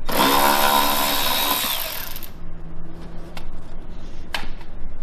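A power tool fitted with a star point socket whirs as it takes out the grille bolts on an Audi A5, a loud spinning burst about two seconds long winding down, followed by quiet clicks and light ticking of the socket and parts.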